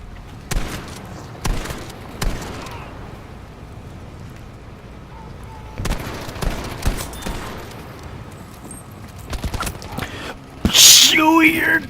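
Bursts of rapid automatic gunfire in a first-person shooter game, short volleys spread across the moment with a louder blast near the end, mixed with gasps and a voice talking over it.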